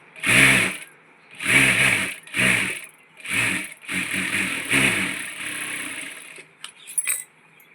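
A sewing machine stitches a decorative design strip onto fabric for a puffed sleeve, running in several short, close bursts with brief pauses between them, alone without talk.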